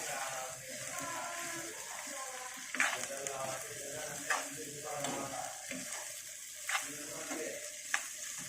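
Small bitter gourd curry sizzling and frying in a pan while a spoon stirs it, with steady hiss and sharp scraping clinks every second or so, close and clear.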